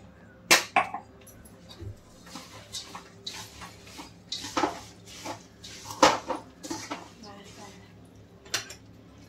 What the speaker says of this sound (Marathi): आता हे शेंगदाणे वाटलेत मी असे जाडे मोठे टाकले ते पण मिक्स करून देते